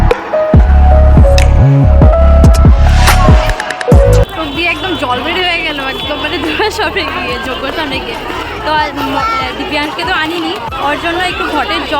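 A dense crowd chatters at a temple puja, a continuous babble of many voices near and far. Loud close sounds come first, then a close voice talks over the crowd.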